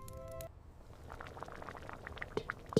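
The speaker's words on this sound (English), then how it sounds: "Now I add hot vegetable broth and noodles." Hot vegetable broth and noodles go into a pot of thukpa: a quiet liquid pour and splash settles into soft bubbling, with a few sharper drips and plops toward the end, no talking.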